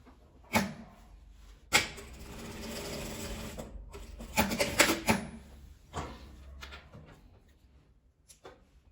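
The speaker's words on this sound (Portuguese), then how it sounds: "Costurando essa parte" Close and clear, a sewing machine stitches a scrap-fabric toiletry bag in several separate runs, each burst of rapid needle chatter broken by pauses with cloth handling and clicks.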